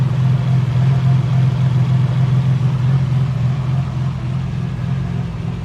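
A Nissan RB26 engine swapped into a 300ZX idles with a steady, loping low rumble, close and loud, with no talk over it.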